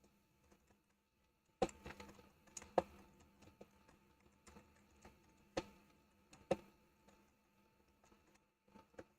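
Sparse computer keyboard keystrokes during a live C programming session, faint scattered clicks and short bursts of typing with pauses between, in a quiet room without talk.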